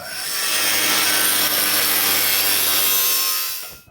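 Saw cutting to trim a part on a custom 1941 Mercury, a loud continuous harsh rasping stroke lasting several seconds before stopping abruptly, with no voices.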